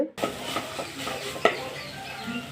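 Drumstick (moringa) leaves are stirred and sautéed in a pan, giving soft scraping strokes and a faint sizzle at low volume, with a few sharper spatula knocks against the pan.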